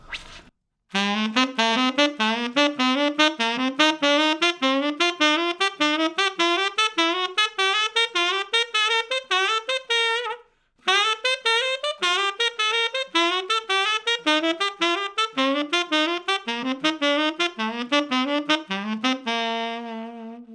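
A triplet enclosure exercise played on a melodic instrument with a set articulation pattern, a continuous run of crisp, evenly tongued notes climbing and falling in repeating figures, with one short pause midway.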